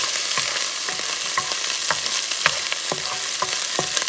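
A chunk of bison stew meat is stirred in a hot pot, giving steady sizzling with light, regular scraping strokes, close and with no voices.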